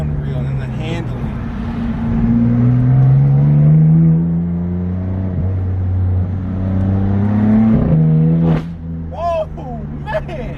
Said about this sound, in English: Inline 6 sounds so deep and rumbly